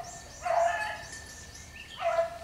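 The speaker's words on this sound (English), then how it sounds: "There's that pup right there, Gary." Hound running a rabbit in Terrell, Texas, giving two distant baying barks about a second and a half apart outdoors, with faint birdsong in the background.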